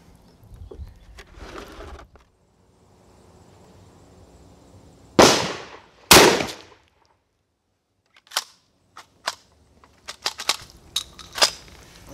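A 12 gauge shotgun firing Challenger target loads outdoors: two loud, sharp blasts a second apart, then several fainter distant reports, with quiet gaps and a bird calling.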